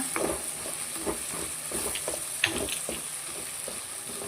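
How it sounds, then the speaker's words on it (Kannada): Bitter gourd sizzles steadily in a frying pan as turmeric powder is stirred through it, with a continuous frying hiss and soft scraping strokes of a spoon, close and alone. "ಹಳದಿ ಪೌಡರ್ ಹಾಕಿ ಒಂದ್ಸಲ ಚೆನ್ನಾಗಿ ಮಿಕ್ಸ್ ಮಾಡ್ಕೊಳ್ಳೋಣ"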